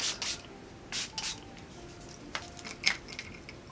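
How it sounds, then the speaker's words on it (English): Milani Make It Last setting spray misted onto a face, several short airy bursts at close range, with no talking over it. "I'm going to use my Milani Make It Last setting spray."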